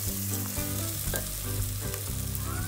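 Steady, close sizzling of chopped tomatoes frying in a pan for mutton biryani, continuous and fairly loud, with occasional stirring scrapes and no talking.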